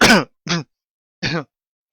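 Three sharp bursts of throat clearing or coughing, close and loud, separated by brief silences.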